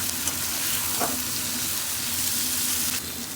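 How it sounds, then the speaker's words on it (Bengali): Fish roe frying in a pan with salt and being stirred, a loud, steady, dense sizzle with a brief scrape of the spoon, and no voices. "লবণটা দিয়ে ভালোভাবে আবার একটু নেড়ে চেড়ে দিতে হবে"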